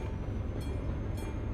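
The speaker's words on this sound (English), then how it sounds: "when you hear those level crossing sounds" Rail noise at a level crossing in Euro Truck Simulator 2, a steady low rumble with rolling clatter and two brief bright tonal bursts, loud and close with no talk.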